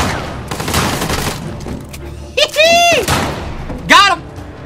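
Shotgun pistol gunfire in Uncharted: The Lost Legacy comes as a burst of loud, dense shots, mixed with excited shouting and voices throughout.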